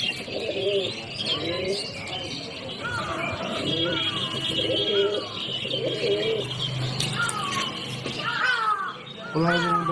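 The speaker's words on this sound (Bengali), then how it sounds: "পায়রা আছে" Pigeons coo and call over and over with rising, bubbling notes, while other birds chirp and a crow caws in the background. The birds are nearby and steady, and voices mix in now and then.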